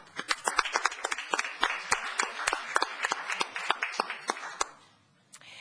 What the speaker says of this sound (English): we should give our town staff a round of applause for their efforts last week